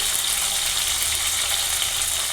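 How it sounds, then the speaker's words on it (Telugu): Onions and curry leaves fry in a pan for an okra curry, giving a steady, close, hissing sizzle throughout, with no talk. "ఆనియన్ కరివేపాకు ఇది ఒక 2 నిమిషాలు ఫ్రై అవ్వాలి"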